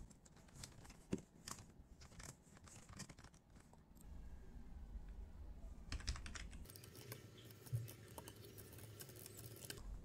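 Name being typed on a computer keyboard, a quick run of light plastic key clicks in uneven bursts with a steady low room hum underneath.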